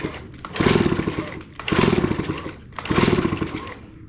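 Three rasping, whirring pulls of the starter rope on a Stihl BG55 leaf blower come in even succession, close and loud, with no engine catching between them.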